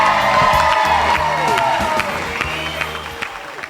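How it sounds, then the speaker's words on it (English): Wedding guests applaud the newlyweds, a dense wash of clapping mixed with cheers, whoops and a few high whistles, loud and steady throughout before easing slightly near the end. "Ladies and gentlemen, please give them a big round of applause."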